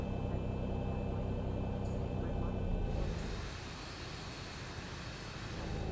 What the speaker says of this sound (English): Let's go ahead and start engine number 1